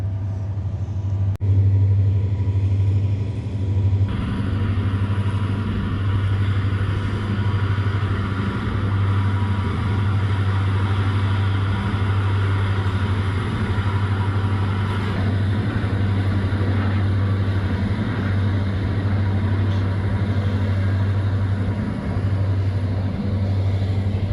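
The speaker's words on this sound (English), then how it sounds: "See if I can capture a shot of this train going over." A slow-moving train rolls across a bridge beside wooded water on Staten Island, giving off a long, steady low rumble and hum that holds evenly for the whole stretch, with a faint high whine above it and no break in the drone.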